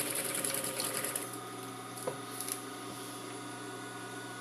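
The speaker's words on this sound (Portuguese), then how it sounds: "vai costurar aqui na mesma medida da primeira costura" A sewing machine stitches seams on a fabric cosmetic pouch, running in a dense, fast, close whirring burst for over a second, then dropping to a quieter hum with a few light clicks.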